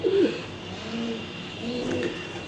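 Racing pigeons in a race-team loft coo in low, rolling phrases, one clear burst at the start and another toward the end, over a steady hum of background noise.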